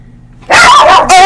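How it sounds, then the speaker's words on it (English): A pet dog barks loudly and close up indoors, two sharp, harsh barks in quick succession after a brief quiet moment. "I'm sorry, that was my dog."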